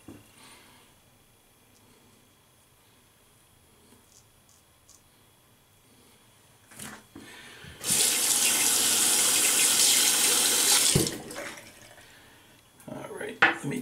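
Tap water runs loudly into a sink for about three seconds while a single-edge Leaf Shave Twig razor is rinsed, preceded by quiet handling noises and faint speech, then a few clinks after the water stops.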